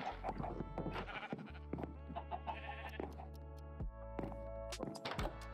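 Sheep bleating in a Minecraft-style one-block survival game, several short, nasal bleats in quick succession among soft thunks and background game tones, fairly quiet overall.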